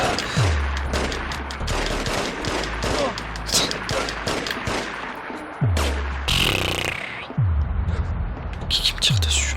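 Rapid gunfire rattles almost nonstop in The Getaway video game, with dense bursts of shots, several deep booming impacts, and a loud, close, chaotic mix throughout.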